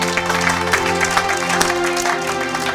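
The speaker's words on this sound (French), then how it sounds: "Acclamez pour la gloire de notre Dieu." A church congregation claps together in a dense, continuous burst of applause, with sustained musical tones and murmuring voices underneath.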